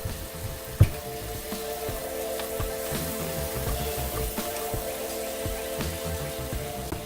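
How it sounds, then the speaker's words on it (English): Vegetables frying in a pan for Indo-Chinese veg fried rice as soy sauce goes in: a steady, close sizzling hiss with one sharp tap near the start and faint clicks throughout. "So now I'm gonna add 2 tablespoons soya sauce."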